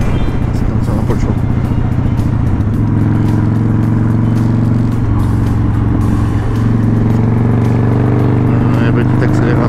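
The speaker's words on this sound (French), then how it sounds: "Petite accélération là." A motorcycle engine revs up steadily and loudly, with a sustained low drone, rising harmonics and a rider talking over it throughout.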